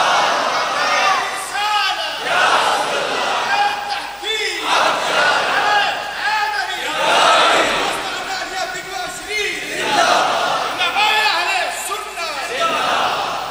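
Crowd at a religious sermon (bayan) by a preacher shouting chanted slogans in loud repeated waves, many voices rising and falling together through the whole stretch.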